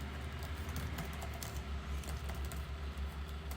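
Code being typed on a computer keyboard during a structured programming lesson, a rapid, continuous stream of soft key clicks at close range with no talking.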